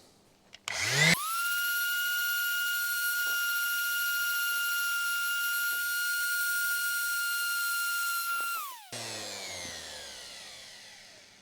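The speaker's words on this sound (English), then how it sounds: "we'll sand the other bits and see how they came up" An electric sander works filler on a mudguard repair, holding a steady high motor whine for about eight seconds before winding down, close and loud, with no voices.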